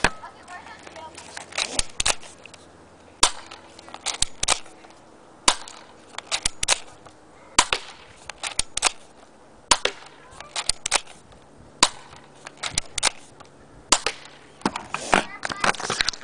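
A Crosman SWAT Defender airsoft gun fires at a target in sharp, snappy cracks. There are about a dozen shots, some single and some in quick pairs, spaced through a quiet background.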